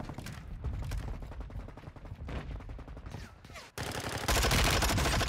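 Rapid video game gunfire in a loadout-based shooter, with bursts of automatic shots crackling in quick succession, loud and close, then a harsher sustained volley near the end.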